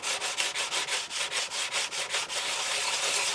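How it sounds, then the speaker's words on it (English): A long sanding block rubs back and forth over a wooden windsurf fin in a steady rhythmic scrape, about a dozen strokes, then blurs into continuous sanding. "Now I can take the long sanding block"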